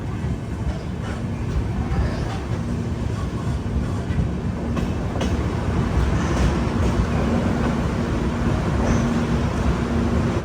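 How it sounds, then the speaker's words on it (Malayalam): An AC Express train at Palakkad railway station gives off a continuous low rumble with a faint hum and scattered light clanks, steady and close for the whole stretch. "ട്രെയിനിതാ പാലക്കാട് റെയിൽവേ സ്റ്റേഷനിൽ നിർത്തിയിരിക്കുകയാണ്"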